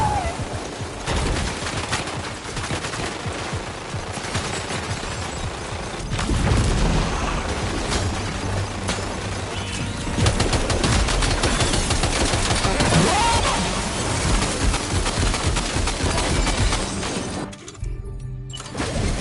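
Heavy gunfire in Death Stranding 2, dense bursts of rapid shots, booms and shattering impacts piling up loud and close for most of the stretch before a short drop near the end.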